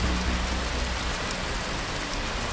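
Steady rain with gusting wind for a Bengali horror audio story, a continuous broadband hiss holding at an even level throughout, with no voices.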